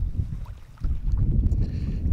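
Wind gusting across an open lake in Sweden, a steady loud rushing roar that dips briefly before surging back, with no talking.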